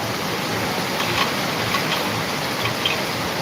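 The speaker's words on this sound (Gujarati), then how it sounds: "અત્યારે વરસાદ પડી રહ્યો છે અનરાધાર જોઈ લ્યો" Heavy rain pours steadily over farmland in Jamkandorna, Gujarat, a dense, even hiss with no breaks and no voices.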